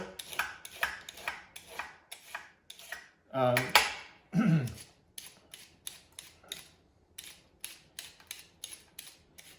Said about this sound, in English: Carrot, we're gonna take and we're gonna peel.